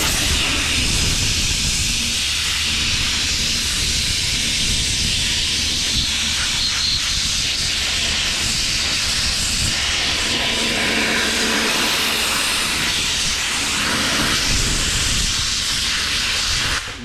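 A brake-cleaner pressure washer sprays a loud, continuous hiss over a Subaru Forester 2.5 engine caked with baked-on oil, the jet holding steady throughout with slight shifts in tone.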